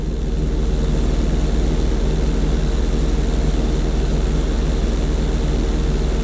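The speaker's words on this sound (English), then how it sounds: "I want you to try to hold a knife edge with your plane" An airplane flies in Grand Theft Auto 5, a loud, steady propeller-engine drone holding a constant pitch throughout with no voices over it.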